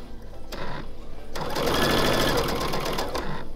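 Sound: sewing machine sewing quilt binding

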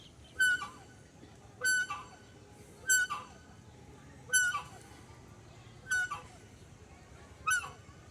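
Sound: geese honking

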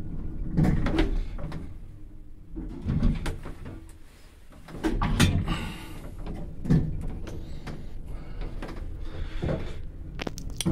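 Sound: doors of a tram closing

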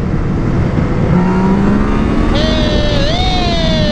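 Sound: sport motorcycle accelerating hard in second gear, power wheelie

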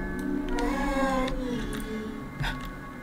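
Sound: cat meowing in the video game Baby In Yellow

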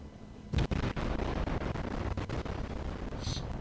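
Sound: destroyer guns firing at enemy destroyer in World of Warships, video game

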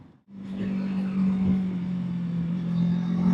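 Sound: Kawasaki Versys 650 motorcycle engine revving

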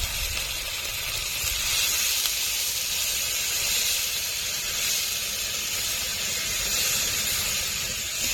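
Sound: water added to frying spice paste, hissing

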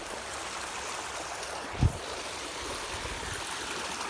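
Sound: canal water rushing through field channel

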